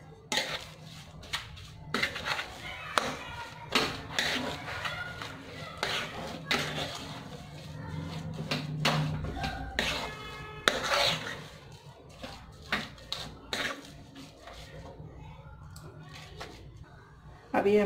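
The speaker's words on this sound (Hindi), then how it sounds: "अब हमने इसको अच्छे से मिक्स कर लेना है।" Suji sandwich stuffing with fresh coriander is stirred in a pan, giving repeated close scraping and clinking of a spoon against metal, with spoken narration over parts of it.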